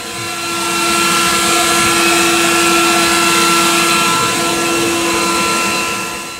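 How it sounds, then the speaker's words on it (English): A Worx 40-volt battery leaf blower runs continuously on a lawn after mowing, giving a loud, steady whine with a constant high tone and rushing air throughout. "I would love to hear your thoughts of the Worx 40-volt leaf blower."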